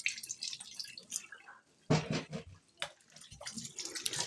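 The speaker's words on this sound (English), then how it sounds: "Let me wash the apple." An apple is rinsed under running tap water in a kitchen while preparing a pancake recipe: uneven splashing and dripping, with a sharper burst of water midway and no talking.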